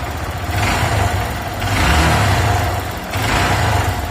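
A Honda Titan 150 motorcycle engine, just repaired with new clutch springs, revs in three steady swells close by at night, a rough mid-pitched drone rising and falling with no talk over it.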